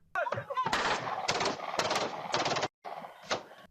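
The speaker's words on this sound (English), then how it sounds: "30 to 40 shots reportedly rang out." A rapid volley of 30 to 40 loud gunshots fires at a house in dense bursts, one brief pause, then a few more sharp cracks. No voices.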